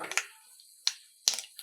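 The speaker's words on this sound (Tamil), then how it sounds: "கடுகு பொரிஞ்சிருச்சு." Mustard seeds crackle in hot oil in a kadai, sparse sharp pops scattered across a quiet background, a few close bursts spaced irregularly.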